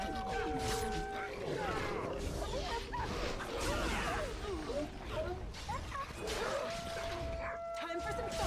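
Wolf barking and yipping in the Dragon Age: Origins video game, with repeated sharp barks over a dense battle soundscape and steady game music throughout.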